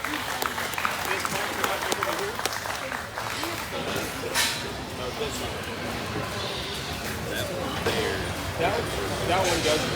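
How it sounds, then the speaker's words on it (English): A crowd at the Arizona National junior crossbred gilt show applauds young exhibitors leading their pigs out, a dense ongoing mix of clapping, shuffling, and hoof and footstep noise with voices talking through it. "give these young people a nice round of applause as they take their gilts back"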